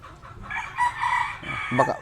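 A Sweater gamefowl rooster crows once in a drawn-out call at moderate distance, with fainter clucking from other fowl in a farm range area before and after.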